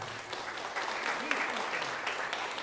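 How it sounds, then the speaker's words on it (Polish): Guests clap for a newlywed couple at a wedding reception before their first dance, a steady dense patter of many hands filling the room for a few seconds. "jeszcze raz wielkie brawa dla młodej pary"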